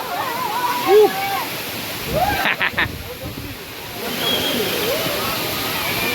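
Manche waterfall in the Konkan rushes in a steady broad roar of falling and splashing water, while nearby voices shout and call out playfully over it and a few sharp knocks break through midway.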